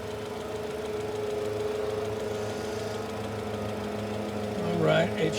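An idling car engine with a misfire runs with an uneven, stumbling knock and a steady low hum, then a person starts speaking near the end.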